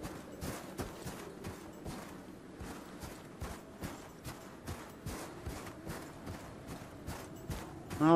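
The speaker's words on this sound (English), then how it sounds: "Well, apparently you have goats here too." Goat hooves clop in the survival video game Icarus, a steady run of soft, evenly spaced hoofbeats on ground, moderately near and quiet, with no talk over them.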